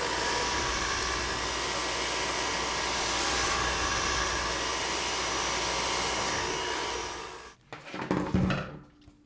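A handheld hair dryer blowing hair during a blowout, a loud steady whooshing roar for about seven seconds before it switches off, followed by brief handling noise.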